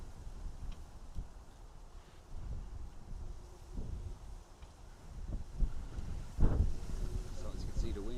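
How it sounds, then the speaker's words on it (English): Wind buffeting a camera microphone outdoors at an airport, a steady low rumble with irregular gusts that swell louder toward the end. "the wind is blowing said camera"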